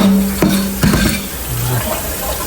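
Food stirred in a pan: a few sharp metallic clanks of a utensil against the pan, close and fairly loud, with faint scraping and a low background hum between them.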